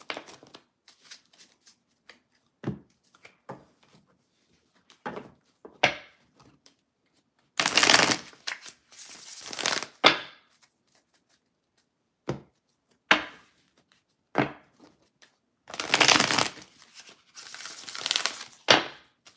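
Oracle cards from a love-themed deck shuffled in three bursts of crisp riffling and flicking, loud and close, with quieter card taps between and no talk.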